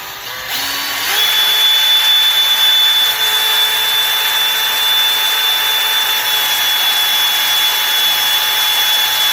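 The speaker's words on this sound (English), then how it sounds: "hold the drill and just pull it all off" A power drill spooling braided fishing line onto a fishing reel whirs at a high, steady speed for several seconds, a constant loud mechanical whine after a brief spin-up.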